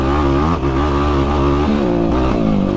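A quad ATV on Obor Advent tires rides with a loud, close, steady engine drone. The revs rise and dip slightly as it goes, with no voices.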